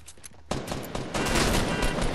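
Rapid automatic gunfire in a Fortnite squad match, a dense loud burst of overlapping shots that starts abruptly after a quieter moment and keeps rattling close by.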